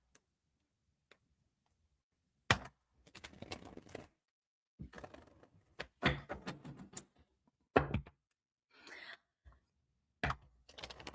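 Tarot cards being shuffled in bursts of crisp riffling and tapping, several separate flurries with quiet gaps between, close and fairly soft.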